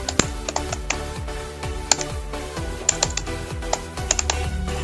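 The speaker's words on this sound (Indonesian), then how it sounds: "kita mengetik dulu daftar isi" Typing on a computer keyboard, a steady run of close, crisp key clicks in quick irregular bursts with brief pauses, heard alone without talk.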